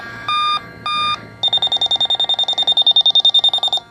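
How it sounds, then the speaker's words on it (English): An A/C refrigerant leak detector with its tip held over a windshield washer bottle beeps loudly and close by, first two short tones and then a fast, steady stream of rapid electronic beeps. "It should alarm, and that should be the only fluid other than a refrigerant source underneath the hood that it alarms to."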